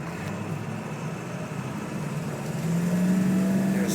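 A 2003 Ford F250 Platinum Edition 4x4 pickup with a 7.3L diesel pulls away from a standing start, its steady engine drone building and growing louder near the end as it accelerates close by.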